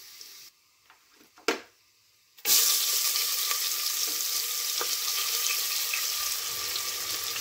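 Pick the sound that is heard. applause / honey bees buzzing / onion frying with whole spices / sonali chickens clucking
onion frying with whole spices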